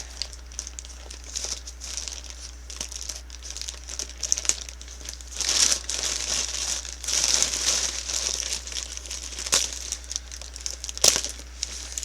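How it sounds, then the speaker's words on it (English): A plastic Temu package crinkles and rustles up close while being cut open, with rising bursts of louder crumpling and tearing midway and a sharp crackle near the end. "Let's see if I can get this cut open a little better."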